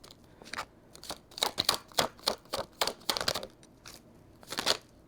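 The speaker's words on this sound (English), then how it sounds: "This deck is so big, it's like hard to shuffle" An oversized deck of tarot cards is shuffled by hand, giving a run of crisp, rapid riffling bursts in short uneven clusters, close and fairly quiet, with no talking.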